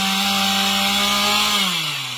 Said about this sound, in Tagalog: ay ginagamitan nila ng chainsaw.